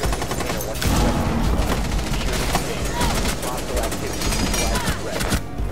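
Gunfire in Rainbow Six Siege, loud rapid bursts of automatic shots cracking continuously for several seconds amid game noise, with voices talking over it.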